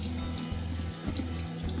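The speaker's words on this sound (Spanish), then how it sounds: "Y la vamos a enjuagar." Tap water runs steadily into a sink as a bleached, toned hair strand is rinsed, a close, continuous splashing flow with no talk.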